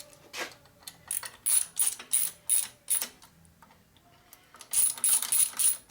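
A ratchet snugs Allen bolts on a custom rigid Harley bobber chopper, its clicking coming close and loud in a rapid series of rhythmic bursts, a pause, then another run, with no talking.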